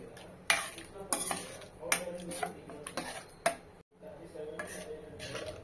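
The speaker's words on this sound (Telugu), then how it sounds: "వాటర్ యాడ్ చేసుకొని బాగా మిక్స్ చేసుకోవాలి." A spoon stirs aloo matar masala in a pan after water is added, with repeated scraping clinks against the metal, a soft simmering bed underneath and a brief pause midway.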